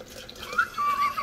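Liquid pours from a bottle into a glass while mixing piña coladas, a short splashing trickle heard up close with no talk.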